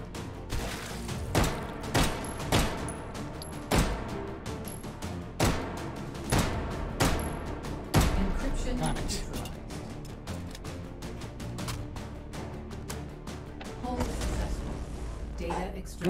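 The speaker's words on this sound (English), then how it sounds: "I gotta do some precision shooting here" Repeated gunshots from a Beretta M9 pistol in the VR shooter Hot Dogs, Horseshoes & Hand Grenades, sharp loud cracks in an irregular series over a steady game background, with someone talking between shots.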